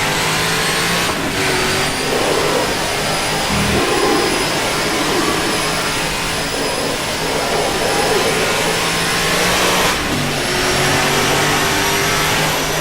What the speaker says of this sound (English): Trying to wrestle a beaten up old stock car around Watkins Glen.